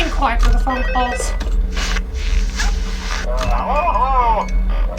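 Telephone ringing in Five Nights at Freddy's 2, brief ring tones mixed under a person's talking and some mechanical clicking.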